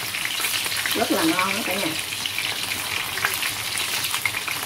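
Potatoes briefly frying in hot oil for Vietnamese duck curry, giving a steady close sizzle throughout while someone speaks over it.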